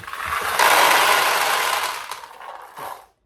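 Steel pachinko balls pour through a restored 1975 Nishijin Model B vintage pachinko machine, a dense metallic clattering rush that swells loud after a brief start, then thins out into scattered rattles and stops.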